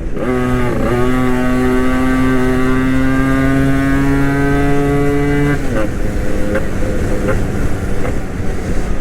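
An RXG motorcycle revved on a ride: a loud, sustained, buzzing engine tone holds for about five seconds, then drops away into rougher, uneven engine and road noise.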